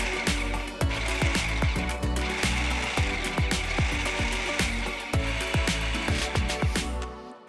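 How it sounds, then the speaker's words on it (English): Food processor pulsing kangaroo meat seasoned with salt and pepper into mince, a fast series of short, loud bursts with choppy mechanical rattling and thuds, repeated steadily and close up with no talking. "I'll pulse the food processor until we have a lovely mince"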